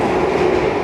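Loud, steady rumble of an overnight executive-class train on the Solo to Jakarta line, heard from inside the dining car as wheels roll over a noisy stretch of track, with no talking.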